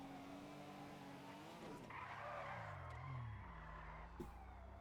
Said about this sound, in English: Oh, he crashed.